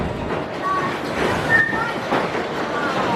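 A red roller coaster train runs at Great Yarmouth Pleasure Beach with a steady, loud rumbling roar from the track and gusty wind noise, and a voice can be heard faintly mixed in.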